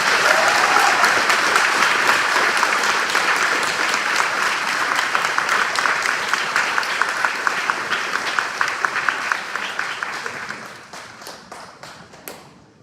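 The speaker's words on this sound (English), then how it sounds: "Can we give them a round of applause?" Sustained applause from an audience at an elementary school fourth grade celebration, dense at first, then thinning into scattered individual claps before fading out.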